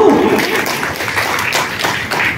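Audience applause at the close of a children's dance programme at a cultural centre, a dense, steady wash of clapping from many hands that fills the whole moment.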